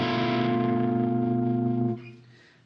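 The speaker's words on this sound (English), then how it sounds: "So it's like a minor 7 chord but with a flat 5." A single minor 7 flat 5 chord from the B locrian mode strummed on a guitar, with a distorted effects-unit tone. It sustains for about two seconds, then is muted and decays with no talking.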